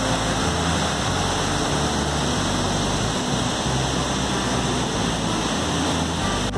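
Waterfall at Cascada El Suspiro in Mexico, a steady broadband roar of falling water heard up close and filling the whole clip, with no voices over it.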